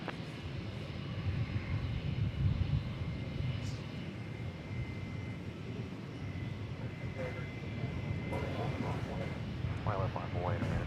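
An American Airlines jet cleared for takeoff at Dallas Fort Worth Airport roars steadily with a broad, sustained engine rumble at middle distance for about eleven seconds, while radio chatter sounds faintly over it.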